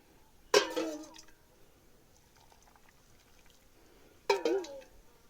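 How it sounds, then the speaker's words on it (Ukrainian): Boiling water is poured in two short bursts into a glass jar packed with cucumbers and salt, each a bubbling, splashing gush about a second long, heard close by in a quiet kitchen. "Окріп у слоїк на огірки."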